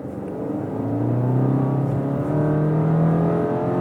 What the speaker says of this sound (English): we'll give it a quick acceleration run. Give it some beans